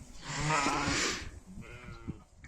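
Goats on a farm bleating while fed a whole alder branch, a loud close bleat at first followed by quieter scattered calls and rustling.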